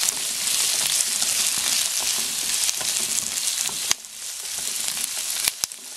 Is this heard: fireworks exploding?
no